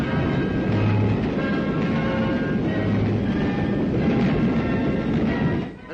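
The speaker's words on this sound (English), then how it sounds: "The train starts off, one of many making the journey north with vital supplies" A train pulling away on a wartime supply run north across desolate country, with a steady loud rumble of wheels and rolling stock throughout that briefly drops away near the end.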